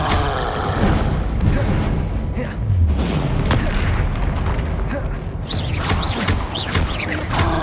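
Confringo fire-spell blasts in the video game Hogwarts Legacy, loud booming bursts layered with crackling debris and rumble, dense and continuous, with shouted spell calls over the top.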